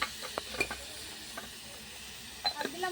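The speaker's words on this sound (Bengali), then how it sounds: "ভালো করে সমস্ত মশলা ভেজে নেব।" Spices such as cumin, chilli and turmeric powder fry in a pan over a clay stove, with soft scattered sizzles and a few stirring scrapes and clinks, fairly quiet and with no talk.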